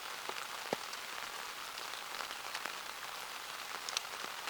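Rain falling on a tarp tent made from two military ponchos, a steady soft patter with scattered sharper drops tapping close by, no voices.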